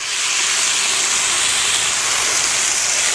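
Potatoes frying in hot oil on a camping fire disc, giving a steady, loud, close sizzle with bright crackling hiss that holds evenly throughout without a break, and no talk over it.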